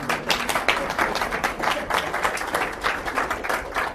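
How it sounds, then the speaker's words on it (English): Lecture audience applauding steadily for a few seconds, many hands clapping in a dense, even patter filling the hall with no talk over it. "Do I get a little clap for that, please?"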